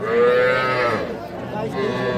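A calf, a young heifer, moos at a busy cattle market, one long drawn-out call followed by a second rising call, loud and close with crowd noise behind.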